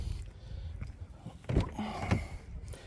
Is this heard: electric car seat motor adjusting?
yes